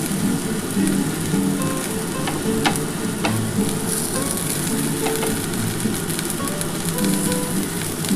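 A spiced radish-greens mixture for mulor paturi fries with fresh coriander leaves in a pan, a loud constant sizzle with stirring scrapes and occasional utensil taps throughout, close up and without speech.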